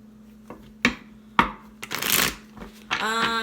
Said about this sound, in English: I was doing your guys' pre-shuffling, and a lot of cards popped out.